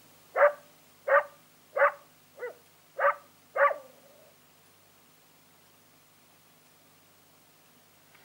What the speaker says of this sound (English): All right, this is what dogs sound like.